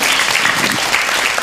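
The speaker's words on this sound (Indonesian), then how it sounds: "Tepuk tangan dulu." An audience at an Islamic religious talk claps together in a dense, steady burst of applause, loud and sustained throughout.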